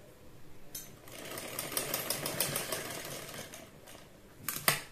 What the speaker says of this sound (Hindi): वहां से हमें मशीन को उठा उठा के इस तरह से इस पर सिलाई लगानी है।